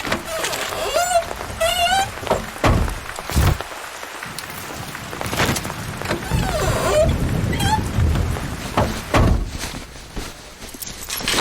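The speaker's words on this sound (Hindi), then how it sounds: "मुझे तो कुछ ज्यादा ही बारिश लग रही है" Heavy rain pours steadily over a car and its surroundings, a dense continuous wash with scattered thumps and footsteps mixed in.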